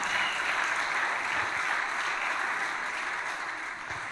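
A church congregation claps in praise during a sermon, a dense, sustained wash of applause from many hands that holds steady and loud throughout.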